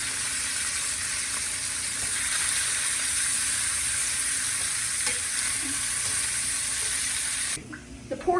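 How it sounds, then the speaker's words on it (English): Pork chop sauce bubbles and sizzles in a pan with a steady, dense crackle that holds even throughout, then cuts off abruptly near the end. "See that bubbling? That's the sauce we want."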